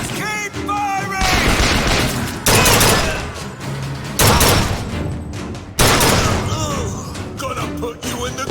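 Rapid gunfire in Bioshock Infinite comes in loud bursts with heavy bangs between them, mixed with shouting voices and game chatter in the background.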